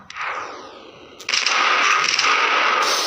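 Gunfire from the Johnny Trigger mobile game: a sharp burst near the start, then a loud, dense stretch of rapid synthetic shots and clattering mechanical effects over a steady game background, with no talk.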